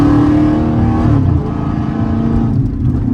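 Close, loud engine roar from a Dodge Challenger SRT8 392 Scat Pack accelerating out of a gas station, the V8 note climbing and then easing into a steady drone, heard from the cabin with no voices.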